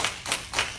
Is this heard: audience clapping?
yes